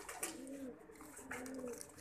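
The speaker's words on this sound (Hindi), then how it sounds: "2022 में 2021 का कबूतर," Pigeon cooing close by, two soft rolling coos in a row, low and murmuring, with faint background ambience and no speech.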